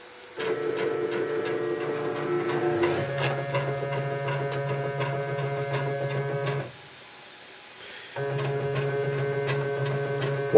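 A CNC hot wire foam cutting machine works through a foam part with a steady electrical hum and tonal motor whine that stops briefly and then resumes, close and continuous with no speech.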